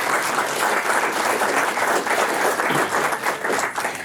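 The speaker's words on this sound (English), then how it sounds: "So a round of applause for our Tivoli Community Theatre." An audience at an Australia Day theatre awards ceremony gives a round of applause, a dense, even wash of many hands clapping that holds steady for several seconds.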